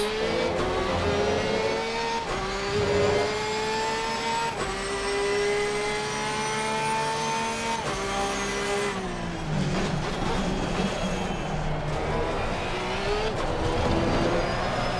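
A Porsche 992 GT3R race car in Assetto Corsa Competizione screams at high revs, with repeated sharp pitch drops as it downshifts. The engine is loud and close, with brief blips and bursts of acceleration between the gear changes.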